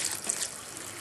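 Half a litre of water trickles and splashes steadily into a pot for base curry gravy, a thin, soft continuous pour with no voices.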